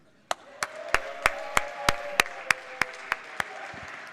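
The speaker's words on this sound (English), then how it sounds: "give a warm applause to our clerk/photographer" Members on a state House floor applaud the clerk/photographer during a session: about a dozen crisp, evenly spaced claps ring out close and alone, then stop.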